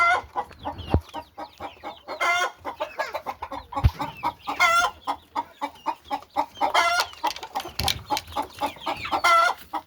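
A flock of Andijan black hens clucks continuously nearby, their short repeated calls rising and falling, with a few louder squawks and occasional dull knocks.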